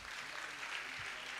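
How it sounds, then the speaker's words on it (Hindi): An audience applauds at a religious discourse gathering, a brief dense wash of clapping at moderate level with no talk over it. "तालियां तालियां तालियां।"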